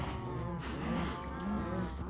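Cows mooing in the video game Minecraft, several overlapping low moos close by with no talk.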